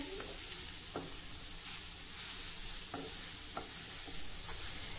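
Grated fasting dish stir-fried over a low gas flame gives a dense, continuous sizzle up close, with regular spatula knocks and scrapes against the pan throughout.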